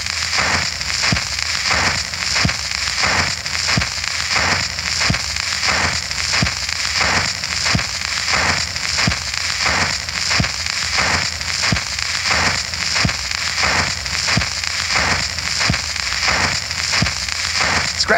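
Record scratches played over the radio in 1968: a steady run of crackling, popping surface noise with regular rhythmic clicks repeating roughly every half second, continuous and fairly loud with no talking.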